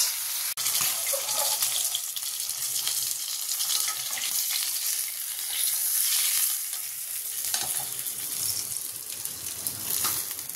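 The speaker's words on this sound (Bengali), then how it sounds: "এই যে সব মাছগুলো আমার ভাজা হয়ে গেল" Fish fry in hot oil in a pan, giving a steady, broad sizzle that runs throughout with occasional stirring and clatter, with no voices.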